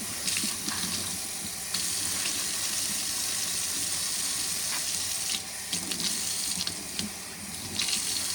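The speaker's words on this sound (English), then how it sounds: "Now I'm going to do some rinsing." A tap runs steadily into a sink while blood-stained white clothing is rinsed, a constant close splashing gush with a few brief shifts in flow.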